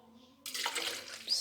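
Milk pours into lemon juice and peel for a lemon milk drink, a soft liquid stream starting abruptly after a brief quiet moment and running steadily to the end.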